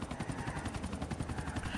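A helicopter in GTA IV: The Ballad of Gay Tony thumps with rapid rhythmic rotor chopping, fairly close and steady for a moment.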